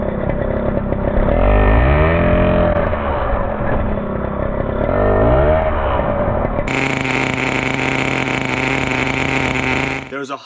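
A 2004 Kyosho FW-05T Ferrari 575 GTC nitro RC car engine fires up partway through, switching from murmured voices and rumble to a loud, steady, high buzzing drone that runs to the end.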